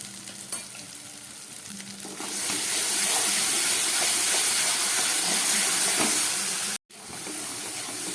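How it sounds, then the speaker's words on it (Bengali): Masala with yogurt and sugar frying in a pan, starting quiet with a few clinks before a loud, sustained sizzle and hiss rises and holds, briefly cutting out near the end. "টক দই আর চিনি দেবার পরে আমি আরও 1 মিনিটের মতো মশলাটাকে খুব ভালো করে কষিয়ে নিলাম।"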